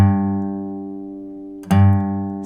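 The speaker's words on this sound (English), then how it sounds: "The next bass note is on string 6," A low acoustic guitar bass note on the sixth string rings and slowly decays, then is plucked again and sustains, played alone without talking.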